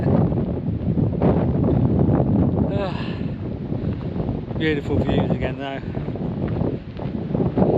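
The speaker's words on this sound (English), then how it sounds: "It's windy." Strong wind buffets the microphone on a coastal trail between Arrifana and Vila do Bispo, a steady loud roar while someone speaks briefly over it.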